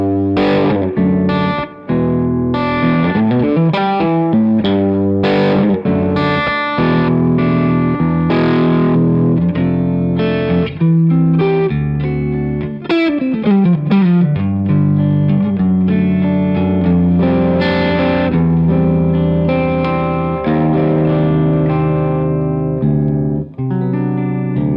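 A Les Paul Standard 50s electric guitar played through a Tubesteader Lightkeeper tube preamp with the deep boost engaged, loud and heavily overdriven, strummed chords and ringing riffs sustaining continuously with no talking.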